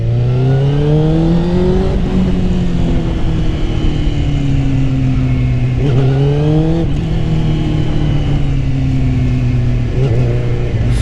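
A Suzuki GSX-R 600 motorcycle engine revs loudly and up close, climbing and falling through several sharp throttle blips over a steady idle.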